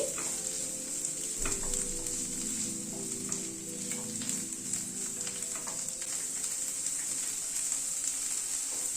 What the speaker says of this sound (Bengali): এবার এই চানাটাকে দিয়ে দিলাম, ছোলাটাকে দিয়ে একটুখানি নাড়াচাড়া করে নিচ্ছি।